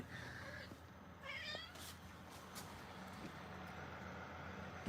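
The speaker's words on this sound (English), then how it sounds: "I guess it was Phoebe meowing at me." Phoebe the cat gives a couple of short meows, close but faint, over a low background hum. The calls come in the first moments, followed by quiet rustling.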